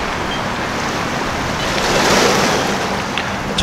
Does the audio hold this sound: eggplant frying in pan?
no